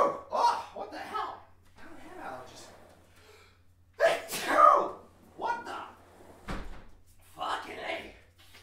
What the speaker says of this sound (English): Why am I sneezing so